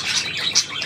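A small pet bird in a box or cage chirps close by, with a few short high tweets over a constant hiss.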